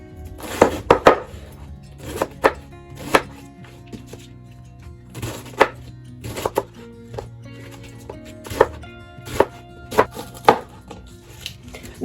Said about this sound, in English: We're going to cut out the core. And chop it up.